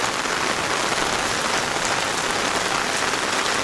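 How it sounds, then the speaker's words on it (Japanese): Sudden heavy rain pouring down, a dense, loud, unbroken hiss of drops hitting surfaces, steady from start to finish with no voices over it. "すごい雨です。 なんだこれ、突然すごい、"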